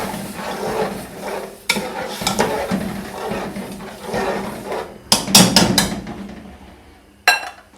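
Sugar cooking in a pan for zarda sweet rice, with a steady low sizzle and stirring scrapes, sharper clanks of a spoon against the pan near the end.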